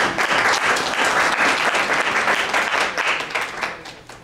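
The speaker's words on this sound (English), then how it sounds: "So I want to give everybody a round of applause." Applause breaks out at a regular board meeting, a room of people clapping steadily for about four seconds before starting to fade.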